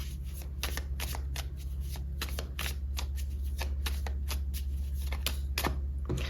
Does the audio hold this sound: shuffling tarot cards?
yes